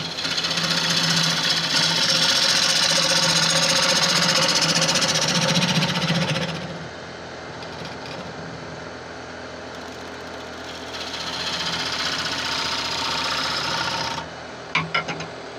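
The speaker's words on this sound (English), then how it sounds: "I just want to re-edge this gouge. I forgot to sharpen the gouge before I start." A woodturning gouge is sharpened on a grinder while working a tigerwood bowl, a loud steady grinding whine for about six seconds, then a quieter hum before a second burst of grinding and a few sharp clicks.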